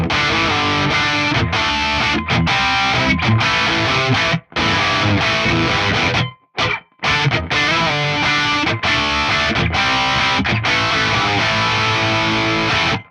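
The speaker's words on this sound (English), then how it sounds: "Let's check out what the Lane Vigier sounds like whenever we put it through some distortion, primarily using our bridge pickup" A Vigier Shawn Lane Excalibur electric guitar played through heavy distortion on its DiMarzio Illuminator bridge pickup, loud fast sustained lead lines with a couple of brief cut-offs.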